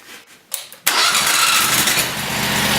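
A 12-volt remote-controlled engine with a blade cranks briefly, catches with a sudden loud burst and settles into a steady close running roar.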